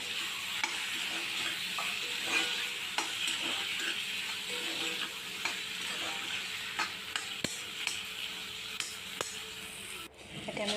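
Boiled chickpea dal and potato get stirred in a pan over a quiet steady sizzle, with repeated small scraping clicks from the spoon spread across the stretch and no speech.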